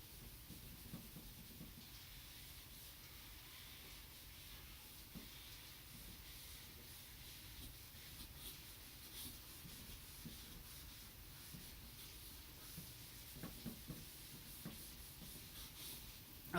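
Faint, continuous rubbing of an eraser across a writing board, a soft steady scrubbing hiss with a few light taps near the end, no voices.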